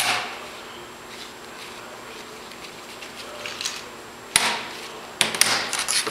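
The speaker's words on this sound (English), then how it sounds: "Turn the force bolt down, which pushes the clutch plate itself up off of the axle of the compressor" A clutch puller's forcing bolt is turned down on a car AC compressor to push the clutch plate off the shaft. After a quiet, steady stretch come a few sharp, close metallic clicks and taps.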